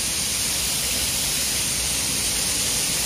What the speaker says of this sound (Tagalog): May busay-busay pala dito.